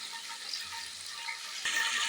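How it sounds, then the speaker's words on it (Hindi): Pieces of fish fry lightly in a pan over a low flame for a curry, giving a soft continuous sizzle. A brief stir or clatter near the end makes the hiss louder. "इसको हमने लाइट सी फ्लेम पे हल्का सा फ्राई करना, ज़्यादा नहीं फ्राई करना।"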